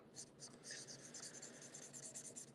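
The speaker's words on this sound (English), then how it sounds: "I am enjoying the markers, Patty." Very quiet, close scratchy strokes of an alcohol marker rubbing back and forth across paper in a quick uneven rhythm, with soft breathy speech faintly underneath.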